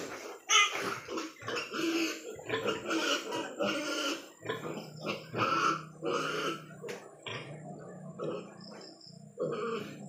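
Pigs kept on a farm grunt and oink repeatedly in close, irregular bursts, some squealing and growl-like, overlapping one another.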